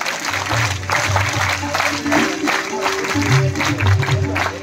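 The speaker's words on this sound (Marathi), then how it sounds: "जोरदार टाळ्या सर्वांनी द्यायच्या आहेत." A lecture audience claps loudly together in a steady rhythmic beat, with a voice speaking over the applause.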